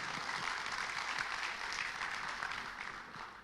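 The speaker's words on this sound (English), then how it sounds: "Can we hear a big round of applause for this remarkable day today?" A conference audience at the IPA Convex 2024 applauds the final day's opening, a steady wash of many hands clapping at moderate distance that tapers slightly toward the end.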